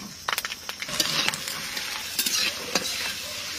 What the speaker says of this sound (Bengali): তেল গরম হয়ে গেছে, শুকনো লঙ্কা আর রসুন দিয়ে দেবো।